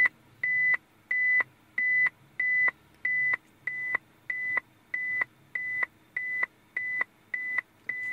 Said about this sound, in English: You can notice that the beep will start becoming faster as we approach the object.